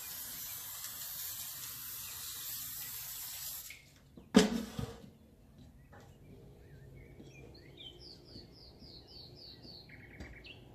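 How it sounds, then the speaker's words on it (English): Cooking oil spray on raw chicken pieces for the air fryer, a steady faint hiss that stops after a few seconds, followed by a short clatter and soft chirping in the background. "Now I will spray oil on them like this."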